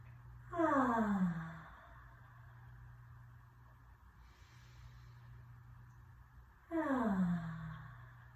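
A long, breathy voiced sigh on the exhale during a gentle yoga flow, heard twice several seconds apart over a steady low hum, each starting loud and sliding downward as it fades.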